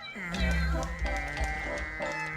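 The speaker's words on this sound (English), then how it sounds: "which is just a bunch of cat noises. Yeah, it's a cat piano." Loud, close cat meows from a cartoon cat piano played on a gramophone, drawn out and tuneful, one after another in a quick sequence.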